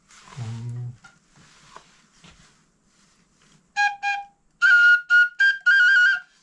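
Breathy, hissing tones from a Hutsul sopilka flute: a low note first, then a series of short whistled notes with a rough, airy edge, played in quick separate phrases.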